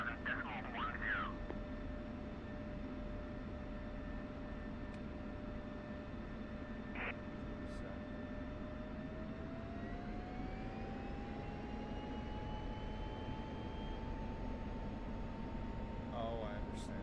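Simulated airliner takeoff in a flight simulator on a snowy day, a steady engine roar holding throughout with a tone that rises in pitch midway as thrust builds, a few short clicks near the start.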